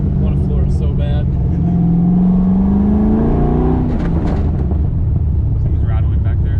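An LS3 V8-swapped Pontiac Solstice drives along with a loose, rattling exhaust, the engine droning loudly inside the cabin and rising in pitch before easing off, with muffled voices underneath.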